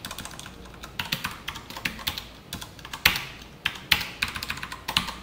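Someone types code on a computer keyboard, a close run of quick irregular key clicks with a few louder taps, steady and alone without talk.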